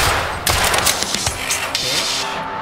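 Rapid bursts of gunfire in the shooter game Escape from Tarkov, a loud, dense run of cracking shots over a steady background rumble.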